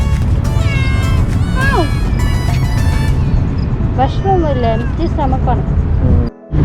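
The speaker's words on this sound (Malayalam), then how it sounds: "കുറേ പൂച്ചകളുണ്ട് ഇവിടെ." Several cats at an Abu Dhabi Corniche park in the evening meow repeatedly nearby, their cries rising and falling over a steady background rumble, some overlapping one another.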